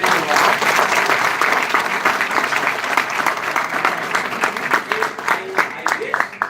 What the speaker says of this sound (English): So give a big round of applause so that everybody could listen